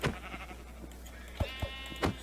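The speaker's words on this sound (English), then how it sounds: "Alright, help me murder these sheep." Sheep in a blocky survival video game bleat several times in short, separate calls over a low steady background hum, with no talk.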